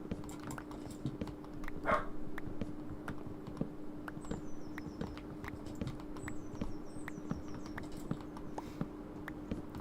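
A pet dog named Woof barks indoors, with one louder bark near the start over a steady electrical hum, soft clicking and faint chirps.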